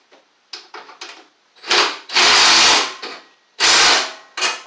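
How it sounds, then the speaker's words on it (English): Tightening the muffler nut on a Husqvarna LGT2654 riding mower, with repeated short whirring bursts of a power tool at close range, separated by pauses, with longer runs later. "let me tighten this nut up here for the muffler."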